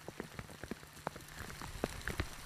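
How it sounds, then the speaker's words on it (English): Freezing rain falling on a morning whitetail hunt in the Carmen Mountains, heard as scattered, irregular drops tapping close by on a surface over a steady wet hiss, with no voices. "It has been freezing rain all morning."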